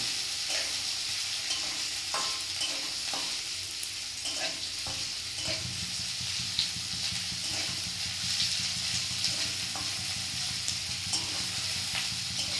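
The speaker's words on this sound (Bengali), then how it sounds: "পেঁয়াজটা দেওয়ার পরে ভালো করে ভেজে নিচ্ছে" Onions frying in a pan for a village-style fish curry, a steady close sizzle with occasional scraping stirs of a spatula throughout.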